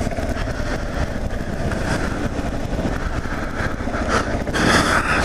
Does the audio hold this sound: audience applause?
no